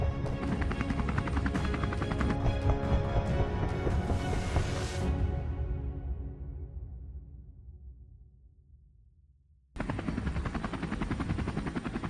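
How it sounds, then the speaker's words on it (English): Helicopter rotors beat steadily in flight during an aerial wild boar hunt over open plains, loud and close, then fading over several seconds before the dense roar cuts back in abruptly. "Amidst the noise of the propellers, we kept firing, aiming at the pigs below."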